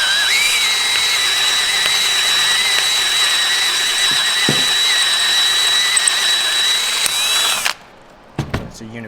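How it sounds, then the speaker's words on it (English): A step bit (Unibit) bores a 1/2 inch hole from the back for a roof rack install, a loud continuous high-pitched drill whine that stops abruptly near the end, followed by a few clicks. "to expand this hole, and because this one's going to throw away more chips, we drill this one from the back"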